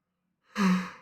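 A person lets out a yawn after a pause of near silence, a breathy drawn-out exhale with a low voiced tone that swells and slowly trails off, close and alone.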